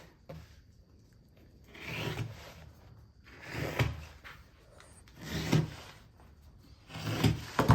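A single-stitch heat shield with a silica mat inside and yellow Kevlar thread is pulled open, giving several broad rustling, scraping swells that rise and fall in separate bursts with quiet gaps between them, heard close up.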